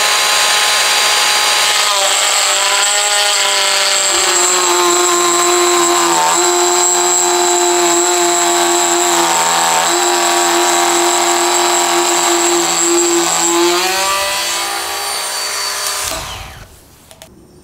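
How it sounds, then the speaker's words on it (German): Bosch GKF 12V-8 cordless trim router milling a T-slot, a loud, close, sustained high-pitched whine under cutting load that holds for about fifteen seconds before spinning down and stopping. "Jetzt werde ich einfach mal eine T-Nut hier mittig reinfräsen."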